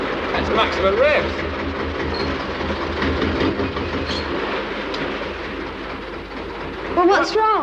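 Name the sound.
boat engine running at maximum revs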